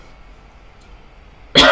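A single sharp cough bursts out loud at the very end after near silence, indoors where incense is burning.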